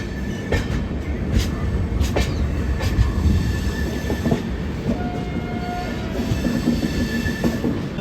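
The Prasanthi Express pulls out of Visakhapatnam station, heard from inside an AC three-tier coach as a loud continuous rumble with wheel clicks, brief squeals and a distant horn.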